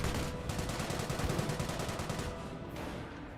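MG42 machine gun firing in Company of Heroes, a rapid, continuous ripping burst of closely spaced shots that runs loud and close for most of the stretch before easing off near the end.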